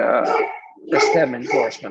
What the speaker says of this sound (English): Pardon my dog there.